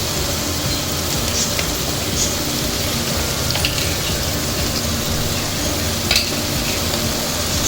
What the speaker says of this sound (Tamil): தக்காளி வதங்கிட்டு இருக்கும்போதே